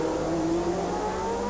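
Formula One cars at the 1980 Long Beach Grand Prix roar past with a loud, continuous engine drone rising steadily in pitch as they accelerate, close and dense with no pause.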